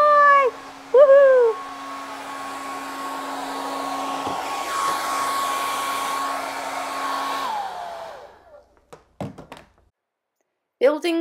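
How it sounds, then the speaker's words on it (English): A handheld hair blow dryer runs steadily for about seven seconds with a constant whine and airy rush, loud and close, then shuts off, with a person cheering and praising a service dog at the start and brief knocks afterward. "Now we're gonna approach the blow dryer."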